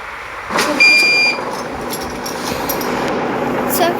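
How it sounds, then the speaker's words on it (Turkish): Bus engine in a bus driving video game starting up and settling into a steady mid-pitched idle hum, with a brief start-up burst near the beginning and a constant drone throughout, loud and close. "Şimdi arkadaşlar otobüsümüzü çalıştırdım."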